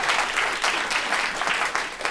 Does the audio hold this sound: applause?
yes